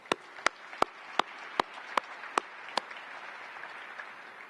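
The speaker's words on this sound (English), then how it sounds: "Please give them a round of applause." Sparse, near claps ring out one after another at a steady pace, about eight sharp hits over a soft crowd murmur, for a basketball team, before the clapping stops and only the low background remains.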